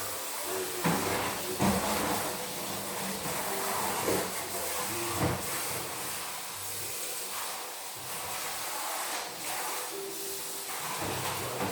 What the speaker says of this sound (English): I'm gonna rinse this out, guys, so that I can use this for my dressing.